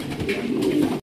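Large pigeons kept for sale, with a pair sold alongside their eggs, coo in one close, steady, throaty call that runs for about a second and then stops abruptly.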